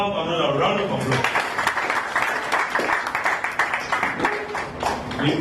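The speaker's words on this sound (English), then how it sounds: "I think he deserves another round of applause." An audience at a climate and food security launch event in Freetown, Sierra Leone, gives a round of applause. Moderate clapping from a crowd swells and then fades over several seconds, with a voice speaking at the start.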